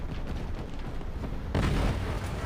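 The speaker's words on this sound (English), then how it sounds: "And now I'll try to shoot at the ammo." A tank main gun fires at the ammunition of a Maus tank in War Thunder Mobile, with a deep, heavy boom cutting in partway through over a constant rumble of engine noise and battlefield roar.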